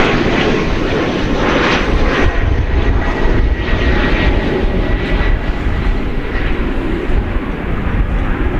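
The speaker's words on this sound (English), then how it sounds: "Viva Aerobus is headed to Monterrey, Mexico. It's an Airbus A320" An Airbus A320neo jet operated by Viva Aerobus at DFW Airport, its engines giving a loud, steady roar that holds close and continuous throughout with no voices.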